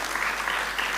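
A packed audience at a corporate wellness day event claps steadily as the guest of honor walks up to the stage, a dense, even wash of applause throughout.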